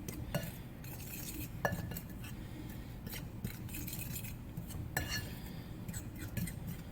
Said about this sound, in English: now you're just going to stir this together until it's well incorporated into your flour